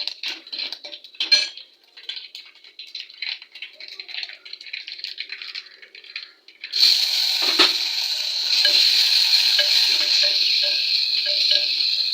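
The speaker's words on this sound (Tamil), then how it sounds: "கிளறி விட்டுட்டு அப்புறம் தக்காளி வெட்டி தக்காளி போட்டு வதக்கணும்" Chopped tomatoes are stirred in a pan for a sardine fish curry, with metal utensil clinks and scraping at first, then a louder, steady sizzle as frying takes over, close by and without talk.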